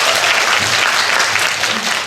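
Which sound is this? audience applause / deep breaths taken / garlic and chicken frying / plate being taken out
audience applause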